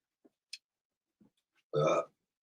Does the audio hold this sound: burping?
yes